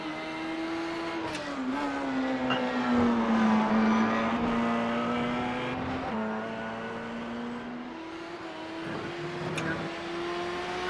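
An LMP2 prototype race car in the iRacing sim, warming up for a Le Mans endurance series race, drones continuously with a loud buzzing engine note that climbs and drops through gear changes.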